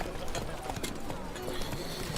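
Horse hooves clip-clop in The Witcher 3: Wild Hunt, a quick run of soft hoofbeats blended into dense game ambience with a voice faintly present.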